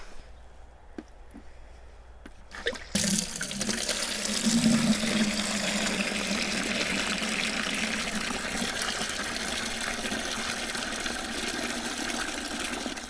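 Water gushes steadily into a bucket for soaking plant poles, a loud continuous rush that begins abruptly after a few seconds of quiet handling sounds and runs on without pause.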